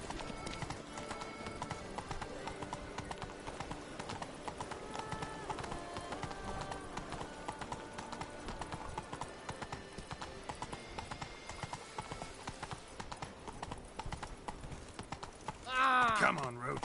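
Horse hooves of Roach in The Witcher 3 game clip-clop at a steady gallop under busy game ambience and a voice, with a short whinny-like cry near the end.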